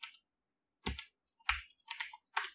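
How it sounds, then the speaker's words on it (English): Keys clacking on a computer keyboard, a few sharp isolated clicks then several distinct keystrokes spaced about half a second apart, close and clear in a quiet room. "I press tab and I can start typing over here"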